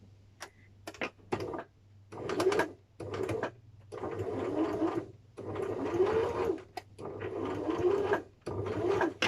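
Sewing machine stitching a bow hair clip, running in several loud close bursts of rapid mechanical whirring separated by short pauses, with no voices.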